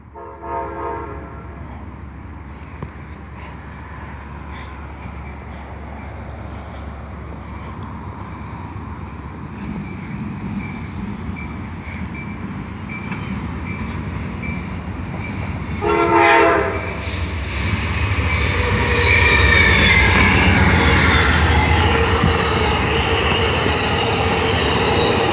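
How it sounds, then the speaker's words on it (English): An Amtrak passenger train passes close by, opening with a long train horn blast, then a swelling roar of wheels and rail noise that grows louder and fills the second half. "here comes an Amtrak"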